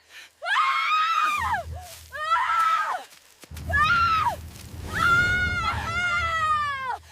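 A woman screams in several long, piercing, wavering bursts separated by short gaps, loud and close, with rumbling noise underneath.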